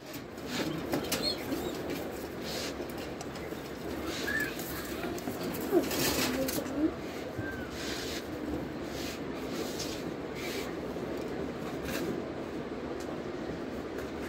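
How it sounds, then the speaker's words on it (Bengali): A pigeon arrives on a rooftop with soft wing flapping, set against steady outdoor background noise and a few brief louder rustles. "কিছুক্ষণ পর দেখবেন একটা কবুতর আসবে"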